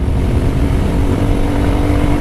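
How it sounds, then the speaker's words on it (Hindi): A motorcycle rides at speed along the Yamuna Expressway, a loud, continuous engine drone with heavy wind rush, steady throughout and close to the rider. "और बाइक ने भी जो है यहाँ पे स्पीड पकड़ ली है, धड़धड़ाते हुए जा रही है"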